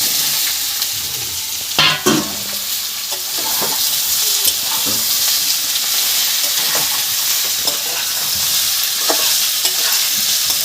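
Potatoes and taro are dropped into a pan of fried onions for a Bengali mankochu curry, setting off a loud, close hiss of oil, then a constant sizzle with intermittent scraping and stirring of the spoon.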